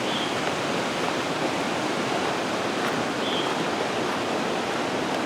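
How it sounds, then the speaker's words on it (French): The Saint-Maurice river flows with a steady, dense rushing roar that stays even and loud throughout, with no voices over it. "Alors ici, on arrive à la rivière Saint-Maurice"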